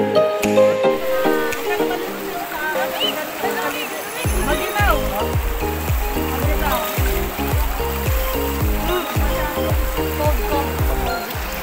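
River water flowing steadily in a large rocky river in Zambales after a storm, a continuous broad rushing and trickling wash heard close and unbroken throughout.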